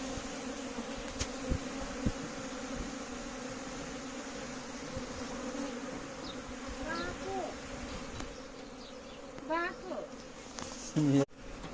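A swarm of honeybees buzzes around a hive, a dense steady drone close by that keeps going throughout, with a few louder individual buzzes passing near the end.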